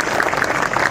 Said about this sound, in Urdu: میں گزارش کروں گا کہ تمام لوگوں کے لیے ایک بار زوردار تالیاں بجا دیں